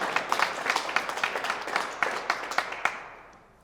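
Audience clapping at a political endorsement event for Governor Healey and Lieutenant Governor Driscoll in Holyoke, a scattered burst of claps that swells briefly and then fades out into quiet.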